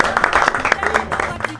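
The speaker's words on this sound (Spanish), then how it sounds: "Un fuerte aplauso." Audience applause welcoming invited guests at a panel talk on pain management, brisk clapping from a small crowd, steady and moderately close for a short burst, with a voice speaking over it.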